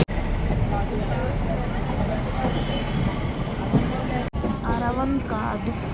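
Ooty toy train rolls along its rails on the Nilgiri route: a steady rumbling roar of carriages and wheels with occasional squeal, heard from inside the coach under people talking.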